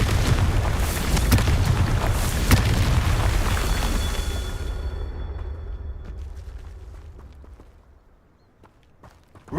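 Confringo blast spell going off in the Hogwarts Legacy video game, a dense run of booming explosive bursts and crackling impacts that rumbles on, then fades out into near quiet with a few scattered pops.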